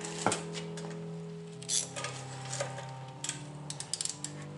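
A ratchet wrench clicks while loosening 14mm bolts on the front brakes of a Pontiac Vibe or Toyota Matrix, a few short close metallic bursts over a low steady hum.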